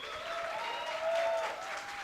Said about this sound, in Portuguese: Os aplausos são para mim, muito obrigado.